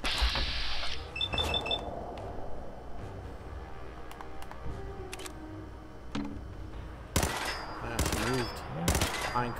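Gunfire in the Fallout 4 video game, with scattered single shots and then sharp bursts of rapid fire near the end, mixed with game effects and beeps.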